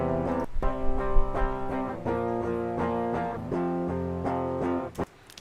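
Unamplified DI electric guitars play strummed chords in a bouncy, choppy rhythm, dry and clean, with distinct stabs through about five seconds before cutting off.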